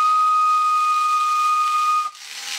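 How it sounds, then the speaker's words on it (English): A steady, loud whistle tone is blown at a compact Helmholtz-resonator snake charmer toy and held for about two seconds before stopping abruptly, leaving a faint hiss. "As long as you blow the whistle, that would stay up."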